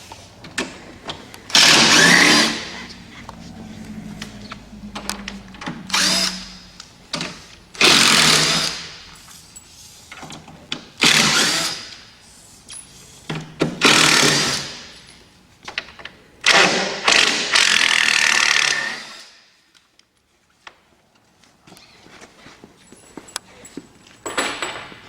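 Power drill backing out the bottom five screws from the back panel of a Harvest Saver shipping crate, heard as several separate bursts of whirring, each a few seconds long with short gaps between them, close and fairly loud.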